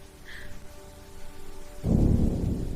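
Heavy rain and wind start suddenly partway through, a dense steady downpour hiss that follows a quiet, faintly tonal stretch and stays loud to the end.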